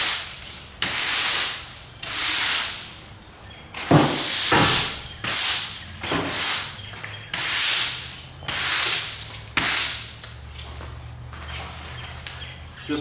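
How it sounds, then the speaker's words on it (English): Brush strokes swishing over a soapy epoxy-coated garage floor, close rhythmic sweeping passes about once a second, light and even, with no talk. "Just a light brushing with this because the soap is going to do most of your work for you."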